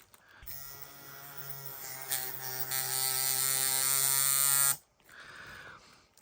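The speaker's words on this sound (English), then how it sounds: "You're going to carefully turn your machine on and figure out your depth" A coil or rotary tattoo machine is switched on and runs with a steady, loud electric buzz and mains-like hum for several seconds, then cuts off abruptly, leaving quieter background noise.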